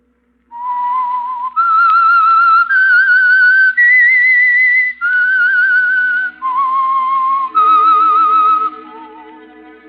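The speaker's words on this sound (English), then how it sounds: "That whistle is your signal for the Signal Oil program" The whistled opening signal of the 1945 radio mystery program The Whistler: a loud, clear tune of sustained, wavering notes stepping up and then down in pitch, played alone, fading at the end.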